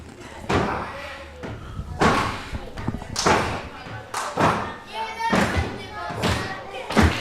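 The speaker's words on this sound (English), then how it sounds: "slams him down." Heavy slams and thuds of wrestlers crashing onto the ring canvas at a live HOPE Wrestling show, several loud impacts spaced about a second apart, with a commentator talking throughout.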